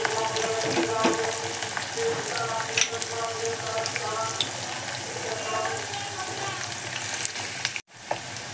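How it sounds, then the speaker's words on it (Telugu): Peanuts fry in oil for mango pulihora, a continuous close sizzle dotted with small sharp pops and crackles, with occasional stirring scrapes and a brief dropout near the end. "మనకు పల్లీలు సౌండ్ వస్తున్నాయి, పట్ పట్ అని, అవి మంచిగా వేగుతున్నాయని అర్థం."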